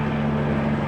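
A steady, droning aircraft engine hums continuously overhead above a museum, a constant low tone with no break.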